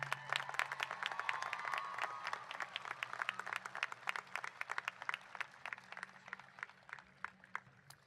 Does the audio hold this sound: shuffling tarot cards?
no